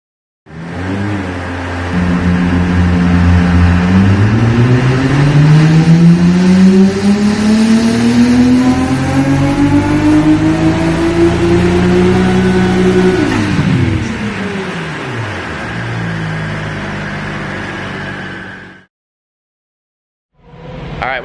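A Nissan GT-R on a chassis dyno roars loudly through a sustained rev run, its engine pitch climbing steadily for about ten seconds before falling away, then cutting to silence with a brief burst at the end.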